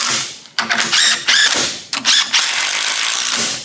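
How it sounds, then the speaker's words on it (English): A small 12-volt cordless power gun driving a bolt during an at-home broken-bolt repair gives several loud, close bursts of ratcheting, whirring impact with short pauses between them. "12-volt gun"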